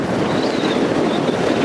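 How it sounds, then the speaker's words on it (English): Wind gusting outdoors at the gate of a Cold War ROC bunker, a steady broadband rush with buffeting against the microphone throughout, loud and close with no voices. "The wind's blowing it down."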